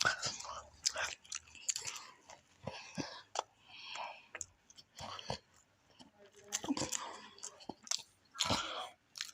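Someone chewing cheesy pigs in a blanket, a bite of cheese-filled pastry-wrapped sausage, with close, wet mouth sounds and soft crunches in irregular bursts and breathy murmurs between.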